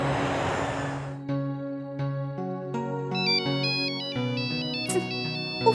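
A phone ringtone plays a bright electronic melody of sustained tones in a Hindi-dubbed South Indian movie, climbing into a higher repeating tune, loud and close, with no talking.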